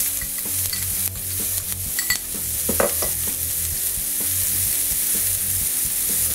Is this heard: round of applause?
no